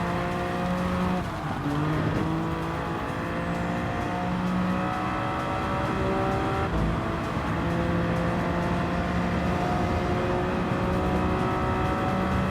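A BMW VGT race car drives in Gran Turismo 7, its engine whining steadily with rising and falling pitch through gear changes and corners, and tires faintly squealing, alone without talk.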